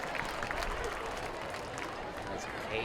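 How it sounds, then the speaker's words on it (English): Crowd applause at a high school football game, Oakwood at Valley View, a steady broadband wash of clapping and cheering from the stands that holds for the whole stretch under faint talk. "I hear the applause now"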